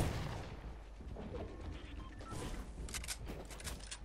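Heavy sniper rifle shots ring out in a video game, a few sharp booming reports spread over a few seconds amid faint background game noise, fairly quiet overall.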